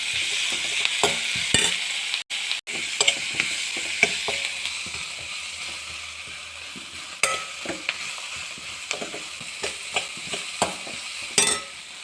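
Onions and chutney ingredients frying until golden in a pan, with steady background sizzle broken by many sharp spatula scrapes and taps at irregular intervals, close and moderately loud, with no voices.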